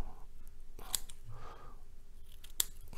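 Scissors snip excess cotton wick for a rebuildable vape atomizer, producing two sharp, close clicks about a second and a half apart, with soft handling rustle in between and a quiet background.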